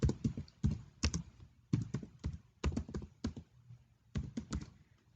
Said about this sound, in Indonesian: Kemudian kita ketikkan di sini kaidah pencacahan.